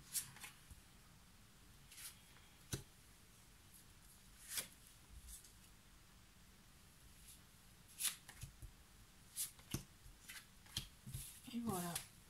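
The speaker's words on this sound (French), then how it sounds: "je vais tirer les cartes pour chaque semaine du mois" Tarot cards being shuffled by hand for a reading, giving a series of quick, close riffling bursts separated by pauses, with a longer flurry near the end.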